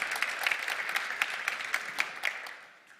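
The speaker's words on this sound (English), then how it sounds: "let's give a big applause to Time Traveling Milkman" Audience at a startup demo day clapping for a presenting team, a brisk, moderately close patter of many hands that tapers off toward the end.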